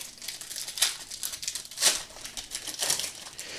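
A foil pack of 2026 Topps Series 1 Hobby baseball cards being torn open, giving soft crinkling and tearing with a few sharper crackly bursts, close up and fairly quiet.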